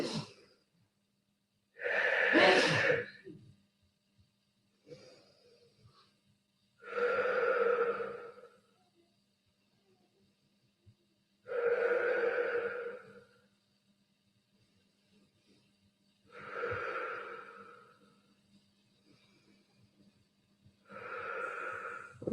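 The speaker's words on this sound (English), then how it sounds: "So deep breath in." Slow, deep breaths during a guided breathing exercise, drawn in and let out in five long, even swells spaced a few seconds apart, close and soft with quiet pauses between.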